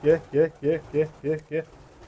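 Nun pigeons coo in a coop in a steady series of six soft, rounded calls, evenly spaced and close by, with no talking.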